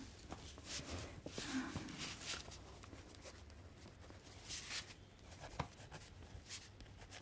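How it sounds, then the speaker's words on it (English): Pen scratching across paper while an ASMR flight attendant jots down a first-class meal order, soft and close, with steady strokes and small pauses and no talking. "I'm just gonna write this down."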